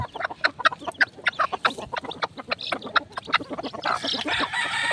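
A mother hen in a coop clucks repeatedly while being given feed, sharp close clucks in a quick uneven rhythm, with other fowl noise and a brief rustle toward the end.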